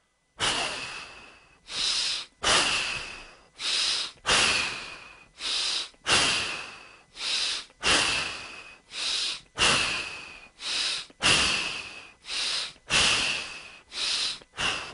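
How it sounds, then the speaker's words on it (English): Abdominal breathing exercise with quick forceful exhalations, about a dozen sharp breaths out in a steady rhythm, close and loud with brief pauses between. "let's practice again the abdominal breathing"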